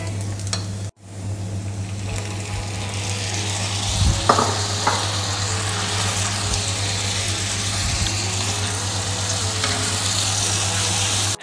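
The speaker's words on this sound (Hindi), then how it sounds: "ऑयल गरम हुआ तो इसमें प्याज शामिल कर दी।" Onions sizzle steadily in hot oil throughout, a dense continuous fry with a sharp crackle surge near the start, a brief clatter of stirring around the middle, and a constant low hum running underneath.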